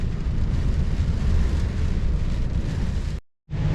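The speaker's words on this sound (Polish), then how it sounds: "zaczęło padać" Steady broadband hiss of rain on a car while driving a national road near Heilbronn, Germany, continuous and fairly loud with road rumble underneath, then cutting out abruptly for a moment near the end before resuming.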